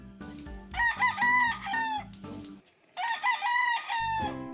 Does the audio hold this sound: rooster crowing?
yes